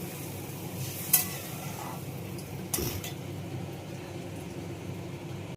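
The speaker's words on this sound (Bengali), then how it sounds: "একটু ভালো করে নাড়িয়ে নিই।" Fish curry being stirred in a pan after water has been added, with a steady low simmering bubble, a couple of brief scraping clinks of the spoon against the pan, and no talking.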